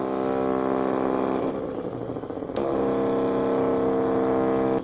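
A small DC motor spins steadily with a close, continuous whine and hum. The pitch dips briefly partway through, then settles back to a constant drone, with no one talking.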